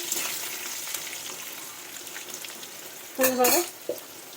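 Spices frying in a pan give a soft, steady sizzle. Near the end a short clatter of a utensil stands out.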